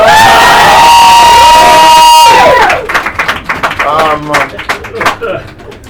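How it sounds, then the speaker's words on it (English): An audience at an evening poetry event applauds and cheers, with loud whoops and shouting that fade into scattered, uneven clapping. "Just clap for Shwa."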